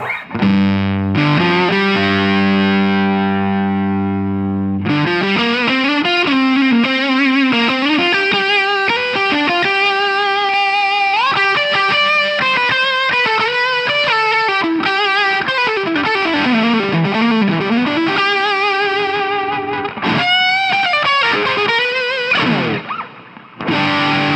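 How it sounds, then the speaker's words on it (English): A heavily distorted electric guitar plays sustained chords and bending lead notes through a dynamic distortion pedal stacked with compressor pedals, loud and continuous, with no talking. "lastly we'll do the dynamic distortion here"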